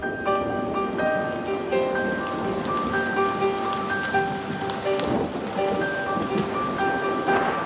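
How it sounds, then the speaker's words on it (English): Heavy rain pours steadily with a dense hiss, thunder rumbling low beneath it, while a few clear tonal notes ring out intermittently. "And then the rain came."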